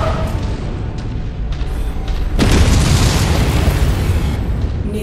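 A missile explosion in the MechWarrior 5 mech game, in a Victor free-for-all match: a steady rumble of battle noise swells at about the midpoint into a loud, sustained blast that holds up to the end, with no voices.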